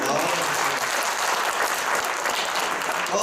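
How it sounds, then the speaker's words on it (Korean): Dense applause from an audience of trainee instructors at an archery coaching workshop, loud and steady throughout with no talk over it. "박수 한 번만 주시고"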